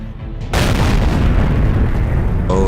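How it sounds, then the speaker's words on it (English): A single loud, close cannon blast from an SU-100Y tank in World of Tanks booms suddenly and rumbles on for a couple of seconds afterward, with no talking. "Just when I needed the cannon to be accurate, the shell goes high."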